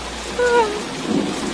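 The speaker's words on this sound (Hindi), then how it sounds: "बारिश बहुत तेज है, क्या करूँ।" Heavy rain pours down in a Hindi-Urdu cartoon, a dense, steady hiss with a short tonal sound over it early on.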